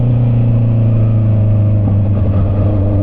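Heavy motor traffic rumbles around a motorcycle riding the NLEX expressway, a steady loud engine drone with rising and falling revs and no voices.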